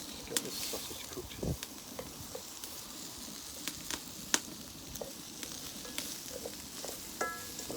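Spinach, nasturtiums, onions, garlic and sausage fry in a pan outdoors on an allotment, a soft steady sizzle with occasional sharp clicks and scrapes from stirring, and no talk.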